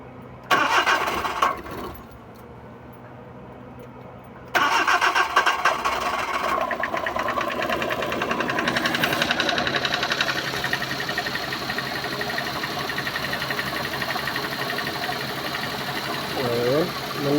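Suzuki DA64 van engine cranking and catching, then settling into a steady idle, loud and close, with a brief pause before the start and a voice speaking briefly near the end.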